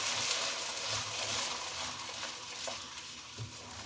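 Tomato paste is stirred into fried garlic and ginger in a hot pan, with a steady close sizzle under a continuous scraping stir and an occasional soft knock of the spoon against the pan.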